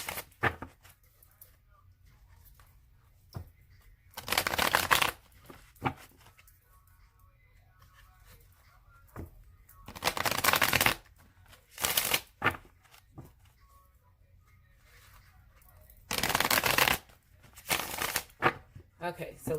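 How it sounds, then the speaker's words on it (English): A tarot deck gets shuffled in short bursts of crisp riffling, three or four clustered flurries of close card flaps separated by quiet gaps, with a voice talking softly between them. "we are going to shuffle it."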